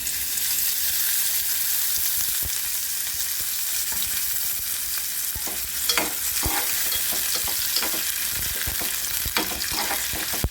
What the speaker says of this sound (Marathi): कांदा भाजून घेऊया आपण कांदा भाजत आहे